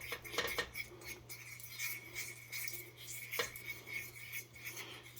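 A spoon scrapes and clinks against a pot while coconut is stirred into simmering cream pie filling, soft repeated strokes with an occasional sharper tap over a low steady hum.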